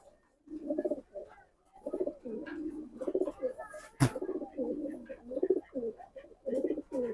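Large racing pigeons cooing close by in a loft, repeated throaty rolling coos in steady bursts, with a sharp knock midway and faint talk in the background.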